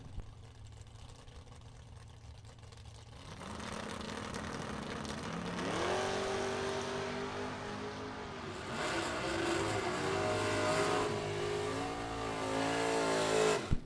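Two Chevrolets, a Malibu and a Nova, roar down a bracket drag racing strip, engines building from idle into loud, sustained acceleration that swells and holds, with no talk over it.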